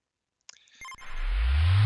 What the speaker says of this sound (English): That's the sound of an unlocked character you hear.